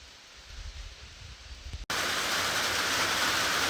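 Rain falling beside a large river in Sweden while out fishing: a soft, low rumble that abruptly gives way to a loud, dense, steady hiss of downpour close by, with no voices.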